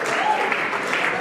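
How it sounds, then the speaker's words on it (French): A church audience applauds a gospel singer on a Christian TV music program, a brief dense burst of clapping at steady loudness with no voices on top. "On applaudit très bien la sœur ici."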